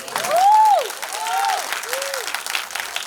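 A cinema audience at a film screening applauds in a steady wash of clapping while an amplified voice speaks over it in long, sweeping tones that rise and fall.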